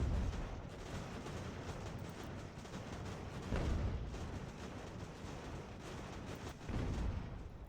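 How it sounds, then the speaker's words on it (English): Artillery booms in an American Revolution battle game, several heavy low thuds rolling over a dense, continuous rumble of distant cannon and musket fire, with no talk. "He's got artillery there, so that's also not helpful."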